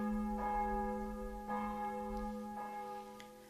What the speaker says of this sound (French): Vous restez là, respirant calmement, porté par le rythme apaisant des cloches.